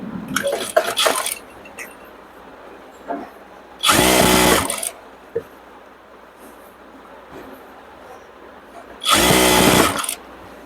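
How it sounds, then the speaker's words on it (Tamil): A sewing machine stitches a skirt in a few short whirring runs, a brief stutter at the start and then two bursts about a second long, each followed by quiet pauses. "டபுள் டபுள் ஸ்டிச் எடுங்க அதாவது ஸ்டிச் மாதிரியே எடுக்கணும்"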